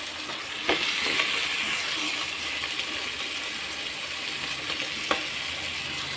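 Tomatoes fry in a pan of oil with ginger-garlic paste for Godavari-style prawn biryani, giving a steady close sizzle with a few sharp utensil clinks and no talk.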